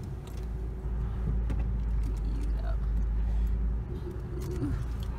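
Inside a car pulling away, a steady low engine rumble holds throughout, with faint voices in the cabin.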